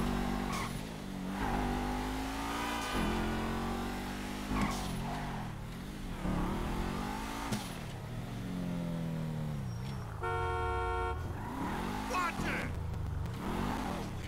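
A Daiboshi Massacro sports car in GTA 5 revs and accelerates in a video game race, engine pitch climbing and dropping through repeated gear changes, loud and steady, with someone talking over it.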